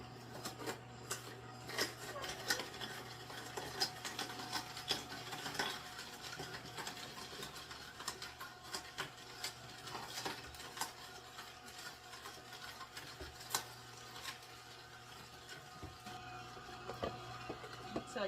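A Nama juicer grinding and pressing carrots, giving a steady close-up mechanical rasp and whir with small crunching ticks throughout, without a pause.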